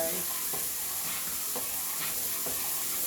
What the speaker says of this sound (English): So over here we got our gumbo base, and it's boiling.